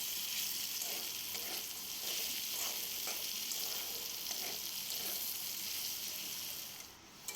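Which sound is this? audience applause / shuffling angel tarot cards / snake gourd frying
snake gourd frying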